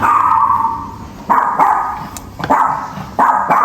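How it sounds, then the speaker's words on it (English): A dog barks several times in short, loud bursts with brief pauses between them, close by and with no talking. "Once your dogs have stopped barking"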